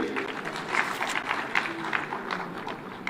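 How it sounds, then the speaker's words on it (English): A conference audience at a live devolution event gives a round of applause: a fairly faint, steady patter of many hands clapping in a large hall. "Let's give her a round of applause"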